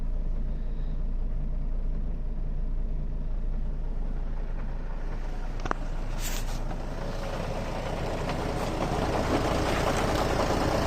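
A Mercedes Sprinter van engine idles with a dual-mass flywheel fault, giving a steady low diesel rumble, close and continuous, with a brief sharp click partway through.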